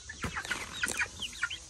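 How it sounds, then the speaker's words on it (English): Black and white meat chickens in a netted pen cluck and chatter in short, rapid, overlapping calls, fairly close and steady against light outdoor background noise. "these are a meat chicken that we can raise up and then hatch out the eggs and have like a supply of chicken that way"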